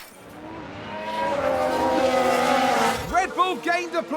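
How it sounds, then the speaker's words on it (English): Tire lockup and skid from an F1 car in F1 Manager 22, set in a 1994 season race: a loud, sustained engine roar with a screeching skid, then rapid gear-shift revs rising and falling near the end. "Sounds like someone's locked up."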